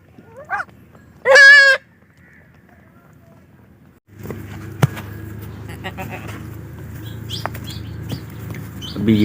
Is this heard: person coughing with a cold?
no